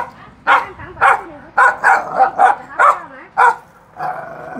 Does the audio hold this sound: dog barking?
yes